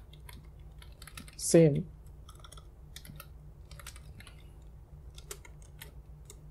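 Computer keyboard keys clatter in scattered, light clicks and taps while typing in a Linux terminal, with someone talking over the steady keystrokes.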